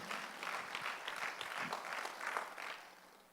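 A church congregation claps through a Sunday worship service, a steady wash of applause held at a moderate, slightly distant level with faint voices underneath.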